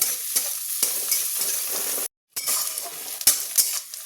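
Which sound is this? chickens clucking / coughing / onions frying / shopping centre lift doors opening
onions frying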